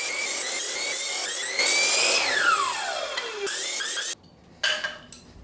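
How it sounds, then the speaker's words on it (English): A power saw cutting pieces of wood for a soundproof wall, a loud, close whining cut whose pitch sags and drops as the blade bites, then stops and briefly starts again. "Let's cut a bunch of these now."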